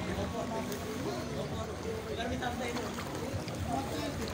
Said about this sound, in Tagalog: Ngayon, Bangka na nga ang mga ano dito eh, mga dumadaan dito.